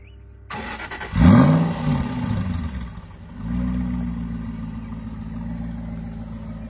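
An Aston Martin V8 Roadster cranks and fires up with a loud, rising bark, then settles into a steady, throaty idle close by.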